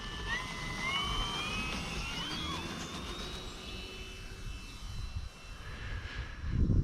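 A model Corsair airplane with a big propeller flies around, its engine a faint, steady drone with wavering pitch as it passes at a distance; no one talks.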